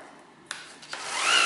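A handheld sander fitted with a flexible sanding pad works on a car headlight: faint rubbing and a couple of sharp clicks, then a motor whine rising in pitch as the tool spins up.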